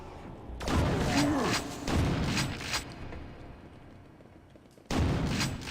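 Grenades from Quake II Remaster burst in heavy, booming blasts, three loud explosions spaced apart with rumbling decay between, the second trailing off slowly before another abrupt blast.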